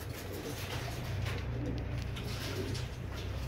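Royal Teddy pigeons cooing in a loft, low soft repeated coos over a steady background hum, fairly close, with no talk.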